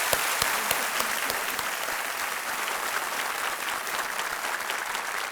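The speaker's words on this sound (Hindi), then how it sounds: "एक बार फिर तालियां बज जाएं इनके लिए, अनामिका जी।" Studio audience applause on a quiz game show set, a dense steady clapping from a large crowd that holds at an even level throughout, with no talk over it.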